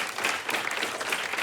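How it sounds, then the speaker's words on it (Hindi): Steady applause from a comedy show audience cheering an audience member, a dense continuous wash of clapping throughout at even loudness. "भाई अयान के लिए एक बार जोरदार तालियां।"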